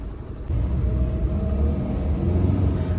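Heavy road traffic rumbles around a Tata Nexon on a busy highway, a steady low drone of passing vehicles and engine noise heard from inside or beside the car, without talk.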